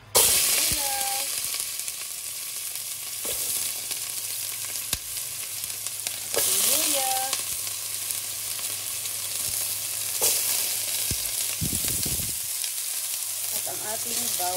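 Onion and garlic sauté in hot oil, a loud continuous sizzle close up, broken by occasional stirring scrapes and clinks, under a steady low hum with no talking.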